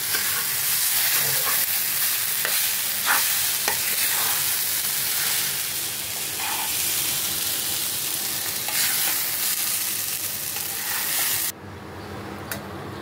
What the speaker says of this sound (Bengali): নেড়ে চেড়ে ভাজা হয়ে গেছে